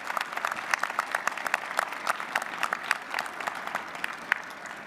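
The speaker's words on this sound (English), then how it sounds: "Let's give them a round of applause, graduates." High school graduates at their graduation ceremony applaud the audience, a lively round with many distinct, close claps over a continuous crowd patter.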